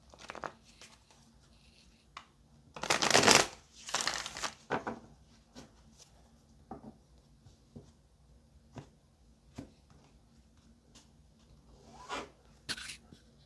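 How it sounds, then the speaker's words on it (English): Brisk rustling and riffling of tarot cards, with a loud burst of shuffling early on and scattered softer card snaps and taps afterward, close up. "Let's get one more shuffle, y'all."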